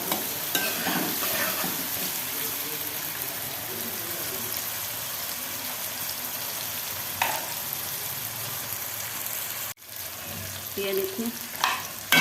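Tomatoes cook in a pan with a constant close sizzle and frying crackle, broken by occasional scraping stirs and a brief clatter; someone speaks briefly over the cooking.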